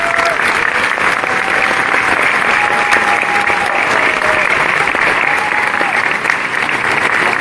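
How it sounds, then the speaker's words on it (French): A crowd gathered in Miami to meet Haiti's president, Jovenel Moïse, applauds loudly and steadily, a thick continuous wash of many clapping hands with a faint tone sustained beneath it. "Sous vos applaudissements, s'il vous plaît."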